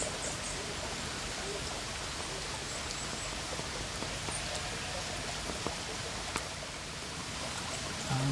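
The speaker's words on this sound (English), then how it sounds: "it's just starting to rain a bit again" Light rain starts falling outdoors in Scotland or the Lake District, a steady soft hiss of drops with scattered faint taps throughout.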